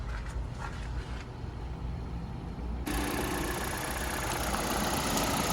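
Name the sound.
1.4 petrol car engine idling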